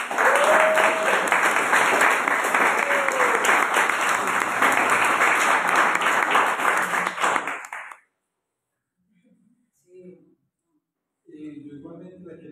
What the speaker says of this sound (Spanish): Primero el aplauso.